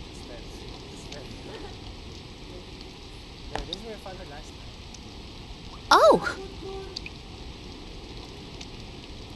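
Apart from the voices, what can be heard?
rain in video game Persona 4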